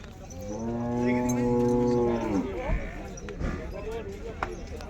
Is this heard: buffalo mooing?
yes